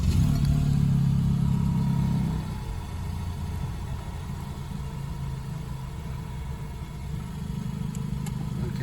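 Ford EcoSport engine idling steadily, a low continuous rumble that drops slightly in level after a couple of seconds while the brake is pumped, with no talk over it.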